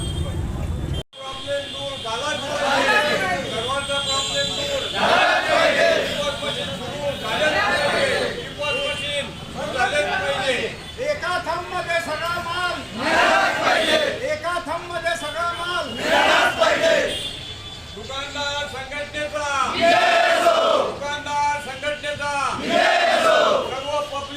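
A crowd of ration shopkeepers chants slogans in rhythmic, repeated bursts at a protest in Jamner taluka, Jalgaon, where they are turning in their e-POS machines. The loud call-and-response surges and dips steadily throughout.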